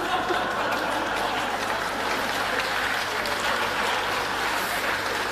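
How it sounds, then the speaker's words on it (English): A comedy crowd bursts into applause after a joke, steady, dense clapping mixed with scattered laughter that holds at full loudness throughout. "the first real applause was to a baby shaking joke"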